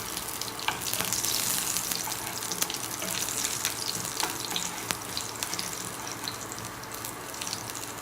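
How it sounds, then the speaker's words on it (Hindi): Cumin seeds and garlic fry in hot oil in a home kitchen, making a continuous crackling sizzle with sharp pops, steady and close, with no speech. "अब अपना ऑयल गर्म हो गया। अब हम इसमें ज़ीरा डालेंगे पहले और ये लहसुन डालेंगे।"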